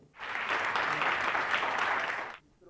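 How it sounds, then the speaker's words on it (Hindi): An audience at a Hindi poetry gathering breaks into a burst of applause to welcome a poet, dense and steady clapping for about two seconds that then stops abruptly. "आपकी तालियों के नाद के बीच में मैं आमंत्रित करने जा रहा हूं श्री बलवीर सिंह करुण जी को"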